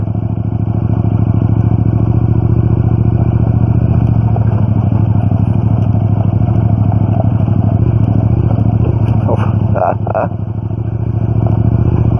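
A motorcycle engine braking on an uphill ride, a steady loud low drone from the bike throughout, with a brief clattering burst near the end.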